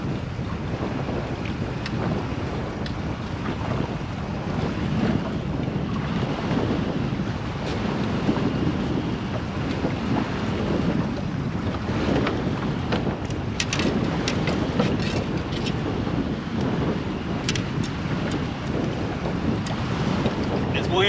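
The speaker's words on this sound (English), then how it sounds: "This wind's making it complicated, man." Steady wind gusts across open water beside a small boat, with waves slapping and a constant roar buffeting the microphone throughout.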